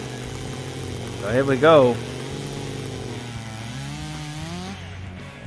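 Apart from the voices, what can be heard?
Stihl MS400 chainsaw cutting through wood in race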